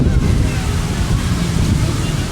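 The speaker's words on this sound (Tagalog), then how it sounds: "Kasi nga mahangin." Strong wind gusting across an open beach during a picnic, a steady loud broadband roar buffeting the microphone throughout, with surf-like rumble and a few faint voices beneath.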